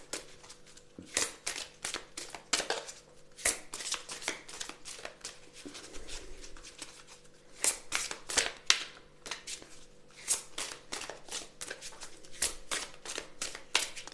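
A deck of oracle cards is shuffled by hand for a reading, giving bursts of sharp papery slaps and flicks in an irregular rhythm. They are close and fairly quiet, with no talking.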